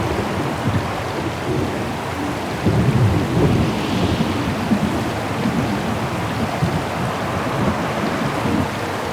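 Thunderstorm in Syberia: The World Before, with steady heavy rain hissing throughout and low rolling thunder rumbling up near the middle, close and loud, with no voices.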